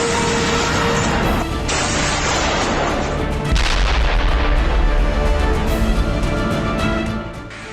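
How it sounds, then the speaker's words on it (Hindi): Heavy North Korean artillery booms repeatedly in the Russia-Ukraine war, loud and rumbling, with overlapping blasts and echoing reports in a dense barrage. "नॉर्थ कोरिया की तोपें गरज रही हैं"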